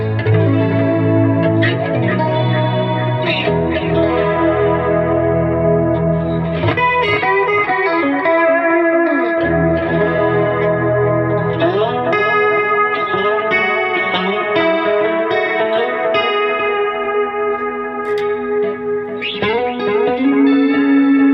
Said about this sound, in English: Let's go for a bit of delay and a bit of chorus.